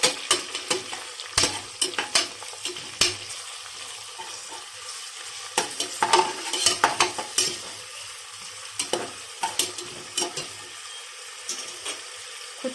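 Ginger garlic paste frying in a pan for coconut pulao, with repeated bursts of stirring and scraping over a continuous sizzle and a few utensil clinks, no one speaking.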